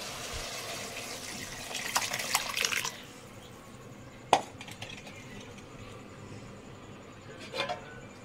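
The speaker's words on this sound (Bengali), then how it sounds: "আমি এখন ডালটা ঢেলে দেবো।" Lentil dal being poured into a pot makes a wet, splashing pour for about three seconds, followed by a couple of soft clinks and splashes in a quiet kitchen.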